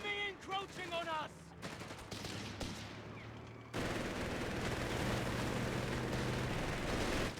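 Automatic MG fire crackles in a WWII real-time strategy battle, with a Wehrmacht machine gun trading bursts with a British Vickers; a steady dense rattle of shots fills the second half after scattered reports and a brief voice early on.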